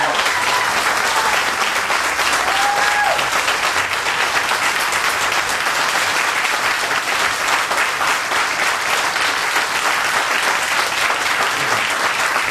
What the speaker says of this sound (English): turn and face the crowd and get the warm round of applause that you all deserve